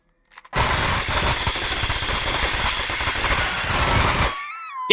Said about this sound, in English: Flamethrower.